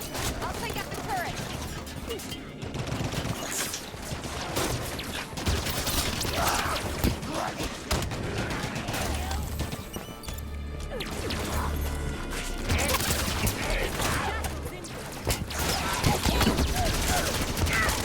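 Dense, chaotic gunfire and crashing explosions from the video game Halo 5: Guardians, in a battle that includes a turret, fill the scene continuously at high intensity, with voices mixed in underneath.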